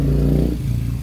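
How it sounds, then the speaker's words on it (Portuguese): Car and motorcycle traffic on a street beside the Itajuru fountain in Cabo Frio, a loud steady low engine rumble that shifts partway through as a vehicle passes close by. "o barulho de carro e de moto está muito alto"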